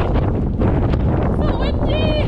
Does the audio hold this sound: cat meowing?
no